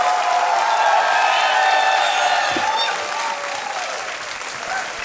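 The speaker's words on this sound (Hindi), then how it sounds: "Big hand for Sindhu" A studio audience on Kaun Banega Crorepati gives badminton player PV Sindhu a loud, sustained round of applause with some cheering, over tonal show music, easing slightly toward the end.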